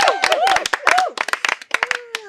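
A small group of people claps for a vote winner, with brisk, uneven clapping that thins out toward the end. Voices cheer and call out over the applause.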